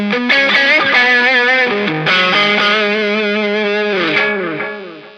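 Electric guitar lead tone run through a tube screamer overdrive and a delay pedal, playing a loud sustained melodic line with bends and repeats trailing behind the notes, alone with no talking.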